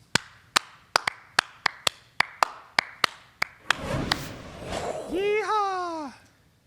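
About a dozen sharp, evenly spaced hand claps close up at the end of a sports podcast, followed by a burst of rustling noise and a speaking voice with sliding pitch.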